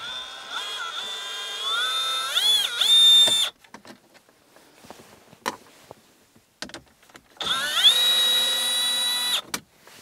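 A power driver whines in two steady bursts with rising and falling pitch as it backs out 7mm bolts from the dash trim of a Ford F150, with quiet clicks and handling noises in the pause between.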